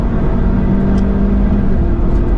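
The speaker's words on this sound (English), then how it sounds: "Oh, it holds at the rev limiter." A Lynk & Co 03+ sedan's engine on a racetrack is held at the rev limiter, making a loud, steady, close droning roar that barely varies throughout.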